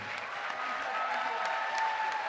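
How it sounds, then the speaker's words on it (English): Audience applause follows a women's economy panel session, a dense even wash of clapping at moderate distance that holds steady for a couple of seconds. "Round of applause for them"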